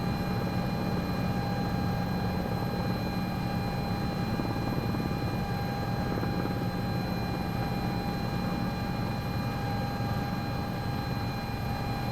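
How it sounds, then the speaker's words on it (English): Continuous video game helicopter engine drone from an S-76 with a low rhythmic rotor thump and high steady whine, unbroken and loud throughout. "You can see those great like rotor blade flapping sounds."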